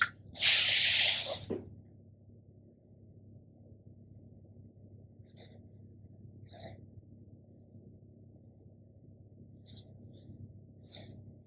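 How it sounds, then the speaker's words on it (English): A marker or pencil stroke drawn across paper for a two-point perspective sketch, one loud, close, hissing swipe at the start followed by near silence with a few faint ticks. "I will draw a line towards that point"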